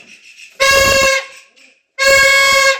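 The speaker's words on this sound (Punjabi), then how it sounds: "ਇਹ ਹਾਰਨਾਂ ਦੀ ਆਵਾਜ਼ ਆ ਜਿਹੜੀ ਇਹ ਰੇਲ ਗੱਡੀ ਨਾਲੋਂ" A homemade contraption built by children, with four vehicle horns joined together, sounds two loud, blaring blasts. Each lasts about half a second to a second, with a short silent gap between them.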